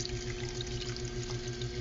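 Water pouring in a laboratory while something is washed: a steady, even rush of running water, close and continuous, with no voices over it.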